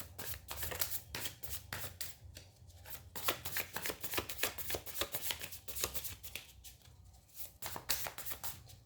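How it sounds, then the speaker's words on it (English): Tarot cards are shuffled up close, a dense run of crisp riffles and papery slaps over a faint low hum, with no one talking. "let me see some tarot cards for you"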